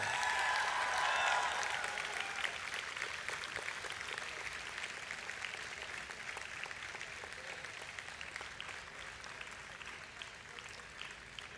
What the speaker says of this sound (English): all of you should really give a clap to all the parents who have assembled here today